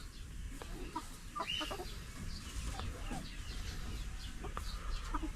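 Young four-month-old chickens and older year-old breeder hens in a coop cluck in short, scattered calls at close range, over a steady low background rumble, with no talk.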